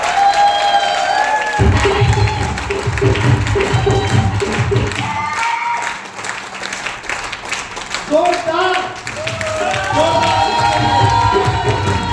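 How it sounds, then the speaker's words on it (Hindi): A crowd welcoming a speaker at a gathering with rousing applause and cheering, with shouts and whoops rising over the clapping, a short dip midway and then a second strong burst of cheers. "मैं जोरदार तालियों के साथ स्वागत करता हूं"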